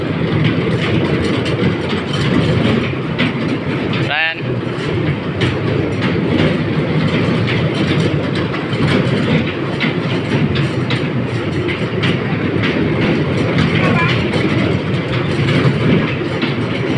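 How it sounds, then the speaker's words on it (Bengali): A small electric toy train ride at an indoor play zone rumbles and clatters steadily throughout, with a brief chirping whistle near the start and no talking. "এটা হচ্ছে ইলেকট্রিক ট্রেন যেটা"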